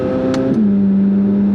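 A Chevrolet Corvette C8 Z06 engine hums steadily and loudly up close, its pitch shifting briefly before settling into a smooth, sustained drone.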